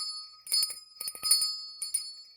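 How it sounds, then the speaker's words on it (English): A hand bell rung in quick bursts of bright metallic clangs, a cluster of rapid strikes followed by a few lighter dings, close and clear with sustained ringing overtones. "let me get my bell here, and I'm gonna ring a ding my bell"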